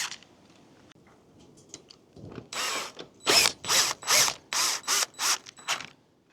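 A ratchet wrench tightens bolts while assembling an outdoor chaise lounge chair, a rapid series of about eight loud, close clicking bursts after a quiet start.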